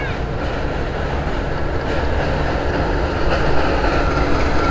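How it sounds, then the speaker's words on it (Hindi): A local train rumbles past on the railway near Coronation Bridge on Sevok Road in the Dooars, a loud, continuous roar of wheels and carriages close by that swells slightly toward the end. "यहाँ से ट्रेन आते हुए काफ़ी मज़ा आ रहा है ना यहाँ से देखने के लिए।"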